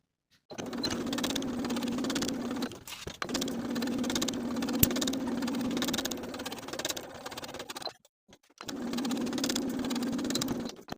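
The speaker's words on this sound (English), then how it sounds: "Sew from the bottom, pivoting along the top and back to the opposite bottom edge with a 5/8 inch seam allowance" A sewing machine stitches a seam in fabric with a 5/8 inch seam allowance, giving a close, steady whirring hum in three long runs with brief stops between them for pivoting.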